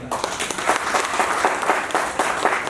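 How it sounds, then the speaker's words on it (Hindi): Dense audience applause fills a corporate star-night awards gala in India, a steady broadband wash of many hands clapping continuously throughout, loud and close with no break. "तो एक तो सिंगला जी के सबसे पहले ढेर सारी तालियाँ"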